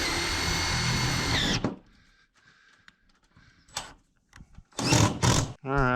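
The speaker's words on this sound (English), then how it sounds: "We'll take these screws out and we'll screw through both sheets." A cordless power drill drives screws through metal roofing sheets on an old barn. A loud, steady whine runs and then cuts off, followed by quieter clatter and rattles, and later two more short bursts.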